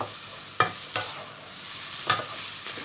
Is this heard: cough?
no